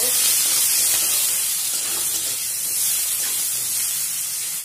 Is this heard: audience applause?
no